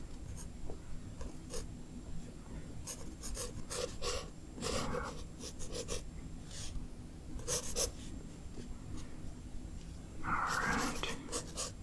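Pencil scratching and scraping across paper while unnecessary sketch lines are cleaned up in a dog artist's drawing session, a steady run of soft, close strokes with short bursts, quiet and intimate, with no talking.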